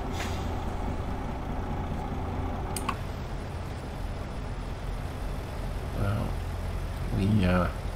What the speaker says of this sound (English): Looks like that last truck might be a work truck.